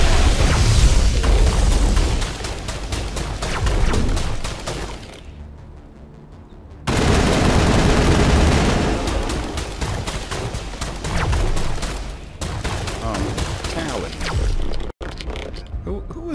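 Gunfire and blasts fill combat against Geth in a colony tower in Mass Effect, with rapid bursts and booms. Speech breaks in briefly and a short lull falls in the middle.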